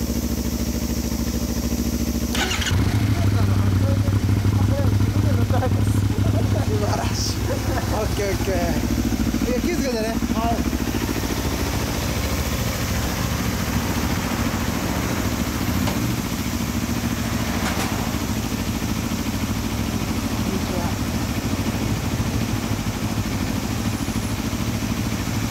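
A 2011 Honda VTR250 motorcycle fitted with a WR's exhaust muffler idles steadily at close range for the whole stretch, with a low, even engine drone and occasional faint voices or clatter in the background.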